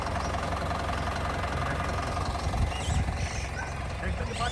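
A Deutz-Fahr 80 hp 4x4 fully automatic tractor engine runs at a steady, rumbling idle nearby, with a brief louder knock partway through.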